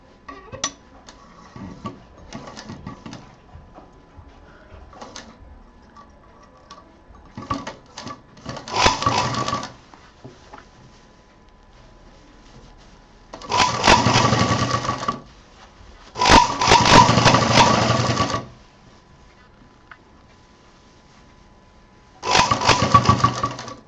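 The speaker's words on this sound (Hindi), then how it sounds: "थोड़ा सा बाहर रखते हुए पाइपिंग, और इसको हम सिल जाएंगे" A sewing machine stitches piping along the edge of a handbag in several separate bursts, each a steady whirring run lasting one to two seconds, near and fairly loud, with quiet handling sounds between them.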